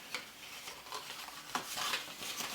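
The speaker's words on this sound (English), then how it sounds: "just putting the buttons back in their little case." Small knitting buttons clatter faintly as they are dropped and shuffled back into a little case, a quick run of light clicks and taps up close.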